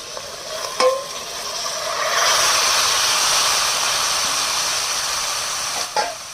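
A pan of spiced onion greens sizzles as a little water hits the hot masala, a loud hissing burst of steam that swells and holds, framed by sharp clinks of a spatula against the pan, without talk.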